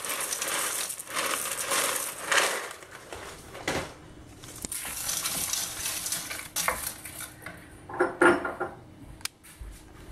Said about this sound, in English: So just add the pasta.